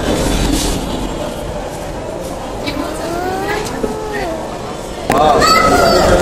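A metro train whines and rumbles at a busy station, rising pitch sweeps over constant crowd chatter, with a louder surge near the end.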